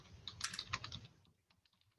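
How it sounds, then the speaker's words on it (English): Rapid clatter of computer keyboard keys in a quick burst, fairly close, then a pause and a couple of final key taps, with no talking. "typing it in the chat here as I talk"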